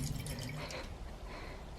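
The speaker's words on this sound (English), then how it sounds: "I just need to top her water up with my little flamingo watering can" Water trickles and drips from a small flamingo-shaped watering can into a rabbit's water bowl in a barn shed, a close, steady splashing pour with no talk.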